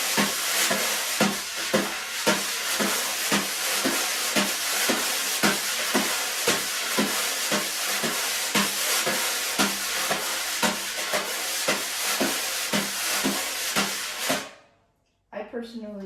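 Jazz brushes on a snare drum play a steady swing pattern with a changing tone, giving regular soft swishes and taps that sound close and loud and carry on alone for about fourteen seconds before cutting out.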